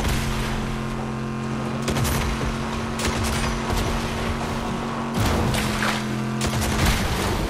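Rapid gunfire in the video game Fortnite, with volleys of shots crackling over a steady droning hum, several dense bursts clustered near the start and again toward the end, at a moderate level.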